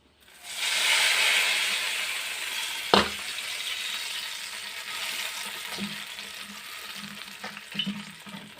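Hot tempering of cumin and dried red chillies added to raw banana chutney: a loud sizzle and hiss rises at once, then fades into steady crackling with a sharp clack and occasional scraping stirs.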